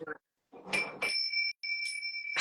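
A small hand bell rings several times in bright, sustained dings. Short rustling handling noises come between them, close and fairly loud in a quiet room.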